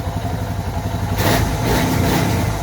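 A Suzuki DR650 dual-sport motorcycle idles steadily close by after an oil change, new spark plugs, a new air filter and a new carburetor choke, its engine note growing slightly louder and busier midway, with no talking.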